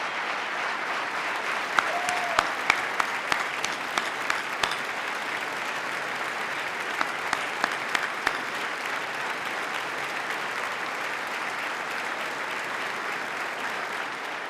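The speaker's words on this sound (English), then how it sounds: "Let's give them a round of applause and thank them for the great work that they do." Sustained audience applause fills a large hall at a 2018 New York State of the State address, steady dense clapping throughout with a few sharper individual claps standing out early on, no talking over it.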